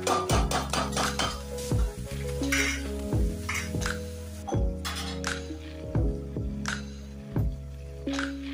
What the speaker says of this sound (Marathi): गरम पाणी ओतून आणखी झाकण ठेवून थोडा वेळ असं